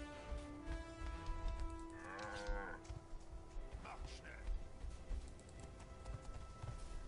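Cattle in the video game Guild Wars 2 give a low moo near the middle, heard over continuous game ambience with hooflike clopping and rustling, without talk.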